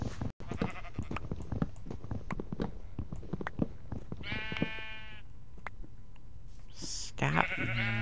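Sheep in a blocky sandbox survival game bleat several times in drawn-out, wavering calls, close and fairly loud, with a voice talking around them and some footstep-like clicks underneath.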